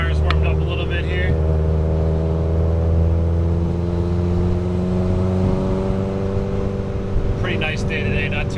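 A Subaru WRX engine hums at a steady mid pitch while it cruises along a canyon road, loud and sustained from close range. Only brief bursts of other sound break in near the start and the end.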